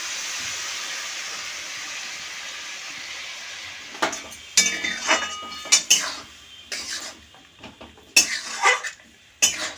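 Ground spice paste going into fried onions in a pan, with a faint background hiss and then a run of irregular metal scrapes and clanks of stirring, close and uneven.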